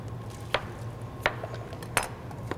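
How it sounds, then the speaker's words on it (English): Potatoes being chopped for vegetable soup on a cutting board, four sharp knife knocks at irregular intervals, close but fairly quiet over a low kitchen hum. "I'm almost done chopping my potatoes over here"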